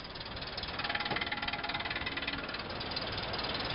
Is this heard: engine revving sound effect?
yes